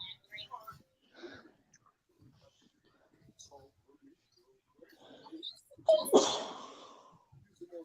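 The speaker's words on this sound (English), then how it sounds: "Did you sneeze?" A single sharp sneeze bursts out near the end, close and loud, after soft murmured speech and small mouth and handling sounds in an otherwise quiet room.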